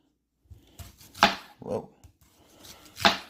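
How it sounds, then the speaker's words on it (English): A big Wanbasion kitchen knife chops through an onion on a board: several sharp, close, separate chops with uneven gaps between them, and no talking. "Let's cut this open. I'm gonna use a big knife first. Handle this onion."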